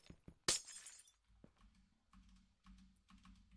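Glass breaks in the modded Minecraft pack All The Mods 8 as one sudden, bright shatter, followed by quiet, scattered keyboard and mouse clicks over a low, faint background hum.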